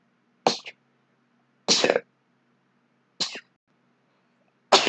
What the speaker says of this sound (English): Oh no, gotta sneeze.